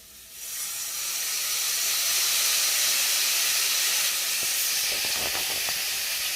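Oil heating in a pan for tempering vegetables, rising into a loud, steady hissing sizzle that holds throughout with a few faint clicks near the end.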